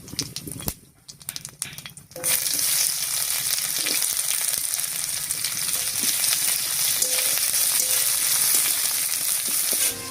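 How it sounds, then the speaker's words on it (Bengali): Chopped onion hits hot oil already tempered with dried red chilli, whole cumin and a bay leaf, bursting into a loud, steady sizzle after a few quieter seconds of handling noise, close and continuous with no talk. "ফোড়নটা একটু ভাজা হয়ে গেলে দিয়ে দিচ্ছি পেঁয়াজ কুচি"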